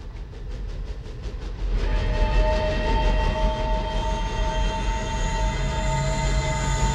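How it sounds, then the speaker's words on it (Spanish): Old train on the Albany to New York Central line rumbling through a subway tunnel in a film scene: a steady, close, loud roar that swells after a couple of seconds, with sustained high metallic squeal tones over it. "Era el viejo tren que va de Albany a la central de Nueva York."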